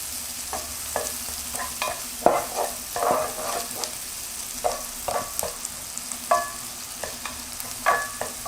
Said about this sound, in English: fry the garlic in that butter about 2-3 minutes or until it browns the garlic